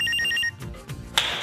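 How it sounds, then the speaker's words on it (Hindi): A phone ringtone signals an incoming call with a quick series of repeated high electronic beeps. Brief clattering and movement sounds follow, then a sharp, bright tone near the end. "अरे लगता है 20 लाख का फोन आ गया"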